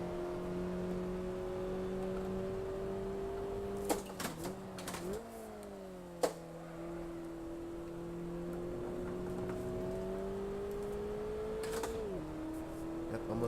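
A Mazda Miata engine in Assetto Corsa hums as a steady tonal drone that climbs slowly and drops with each gear change, with a few sharp clicks from the shifts. The sound is moderately loud and continuous.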